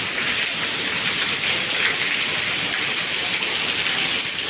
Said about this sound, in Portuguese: chuva mansa, agradável